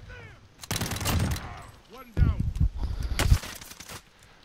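Bursts of automatic gunfire in a Warzone battle crackle in two dense volleys, loud and close, with players talking between and over the shots.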